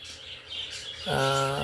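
Birds in a home aviary chirping in short bright calls, a brief tweet early then a clearer, louder song phrase toward the end, close by.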